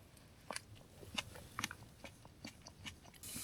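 Food being eaten at a wild camp in the Lake District, with a series of crunchy bites and chewing close to the ear, irregular and fairly quiet against a low outdoor background.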